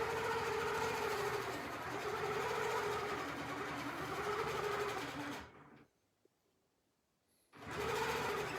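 Longarm quilting machine stitching steadily across the body of a quilt, a continuous mechanical whir that runs for about five seconds, stops abruptly into near silence, then resumes.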